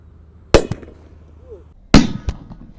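Firecrackers blast inside a metal cooking pot, two sharp loud bangs each followed by a quick smaller crack and clanging ring, with a quiet pause between them.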